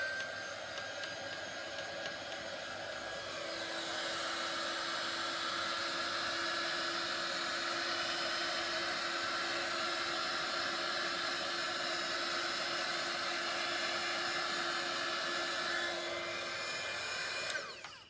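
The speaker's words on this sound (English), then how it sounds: "I'm not totally used to this heat tool yet" A heat tool blows over an acrylic paint pour, a close, steady whirring fan-and-air rush with a faint whine that holds evenly for most of the clip before cutting off at the end.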